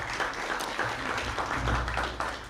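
An audience at a naturalization ceremony claps for council members, a short burst of steady applause with a low rumbling room tone underneath.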